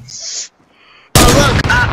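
New gun firing in Fortnite: a short hissing burst, a brief faint tone, then a loud sharp crack with a rattling tail cut briefly before continuing.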